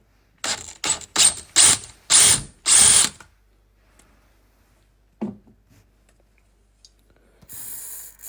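Several loud bursts of a power drill boring into a corroded toilet seat bolt, grinding in short, uneven pulses, followed by quiet, a faint clink and a final whirring burst.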